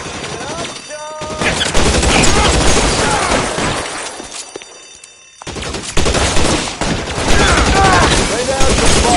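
Loud, dense gunfire in a PS4 shooter, sustained automatic bursts that rattle together with booms, a short lull midway and then a renewed heavy barrage, with faint voices mixed into the battle.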